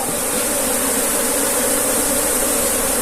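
Honey bees buzz steadily around an open beehive during hive inspection, a dense continuous drone with a bright high hiss, close and fairly loud throughout with no talk.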